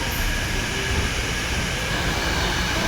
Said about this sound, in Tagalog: Yan yung isang train, guys.